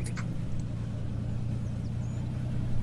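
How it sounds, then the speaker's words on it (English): A minivan idles and drives in a survival video game, its low steady engine hum running the whole time, with a few faint chirps and squeaks on top. "Someone's in the minivan out front."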